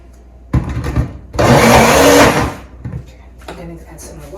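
A blender runs loudly for about a second, grinding cucumber and celery steadily, with short clattering bursts before and after.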